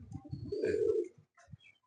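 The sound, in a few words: pigeons cooing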